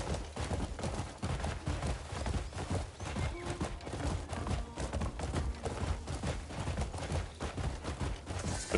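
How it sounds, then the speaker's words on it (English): Horse hooves clip-clop steadily and fast as a mount is ridden uphill in the video game Crimson Desert, a dense, continuous patter of close hoofbeats with no talk over it. "when I come riding up this hill on my horse now at this point"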